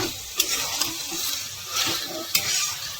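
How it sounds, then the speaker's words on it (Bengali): Chicken skin frying with whole spices such as cloves, stirred in a pan: a close, continuous sizzle with a few sharp scraping strokes of the spoon, no voices. "ভালো করে এখন নাড়িয়ে দিচ্ছি তাতে ফ্লেভারটা ওর মধ্যে চলে আসে"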